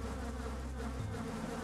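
Bees buzz in a video game, a close, steady drone that hums continuously and alone, with no voices.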